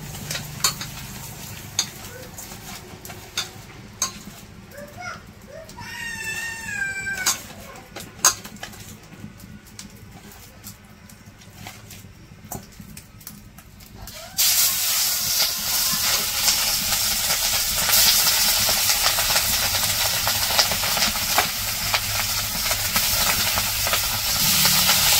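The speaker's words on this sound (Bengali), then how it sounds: "তো মাছ ভাজা শেষ সবগুলা" Hilsa fish frying in oil: a quieter stretch of clinks and a brief whistling tone gives way about halfway to a loud, close, continuous sizzle that holds to the end, with no talking.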